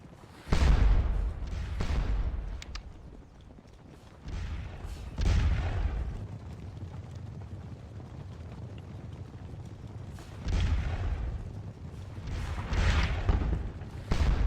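French artillery in the Scourge of War Napoleonic battle game, booming out in a string of heavy cannon shots, several loud blasts spaced irregularly across a low rumbling battlefield.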